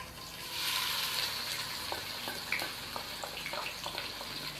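Two chopped onions hit hot cooking oil for an aloo palak dish, bursting into a loud bright sizzle that settles into a steady close fry with light rhythmic stirring scrapes.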